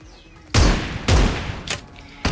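Gunfire in the mobile battle-royale game PUBG Mobile: three or four loud, close shots in quick bursts, each a sharp crack with a short booming tail, separated by brief quiet gaps.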